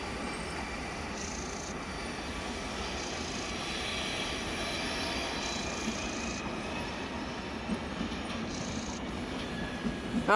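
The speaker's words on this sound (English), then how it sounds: "I think this one might be our train actually" A train pulls into a station in Switzerland, a steady broad rumble and rush of rolling stock with faint high wheel squeal and hiss, sustained and fairly close without any talk.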